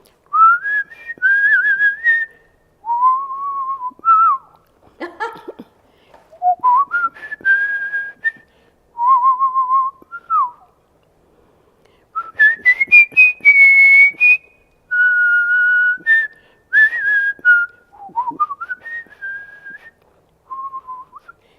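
A person whistles a wandering tune in short melodic phrases with brief pauses between them, clear and close, with no talking.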